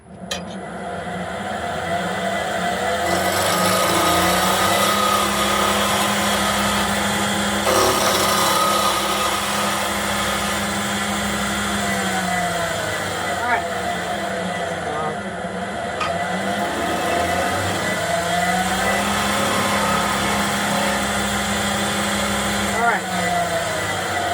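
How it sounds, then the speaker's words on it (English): A wood lathe spins a workpiece while a skew chisel makes a peeling cut, a loud sustained whirring hum with rising and falling cutting tones and scraping, running steadily after a quieter start. "Now the second cut is also a cut you can use to rough from square to round, and it's called the peeling cut."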